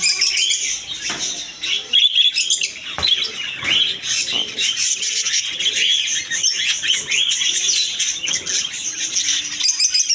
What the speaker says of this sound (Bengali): অনেক সুন্দর একটা রেয়ার পাখি